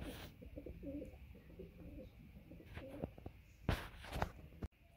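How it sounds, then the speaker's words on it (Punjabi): Pigeons cooing inside their coop, several low rolling coos close by, mixed with wing flutters, a few clicks and a sharp knock near the end. "ਕਬੂਤਰ ਤਾਂ ਜੀ ਆਪਣੇ ਸਾਰੇ ਖੁੱਡੇ ਵਿੱਚ ਚਲ ਗਏ ਆ"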